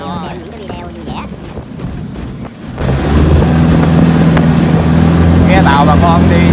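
A homemade 4.9 m canoe powered by a Mitsubishi 4D56 diesel engine runs on the Xáng Xà No river, its loud, steady drone rising after a few seconds amid strong wind rush and water noise.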